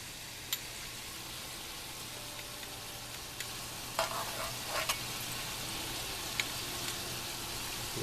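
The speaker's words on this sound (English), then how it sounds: "I'm going to add some cheese to this gravy." Queso blanco cheese stirred into gravy in a pan, giving a steady soft sizzle with a few faint scraping clicks of a spoon, heard alone without talk.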